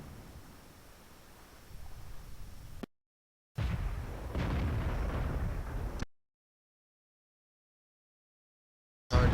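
World of Tanks artillery shells fire and burst in two loud, dense blasts of noise, each lasting a few seconds and cut off sharply by silence, with no voices over them.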